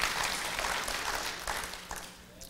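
A church congregation breaks into dense applause during a sermon, a broad wash of clapping hands that gradually fades over a couple of seconds.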